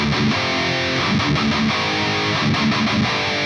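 The third riff of a song on a heavily distorted electric guitar: dense, loud chugging chords and muted low-string hits in a steady driving rhythm, close up, no voices.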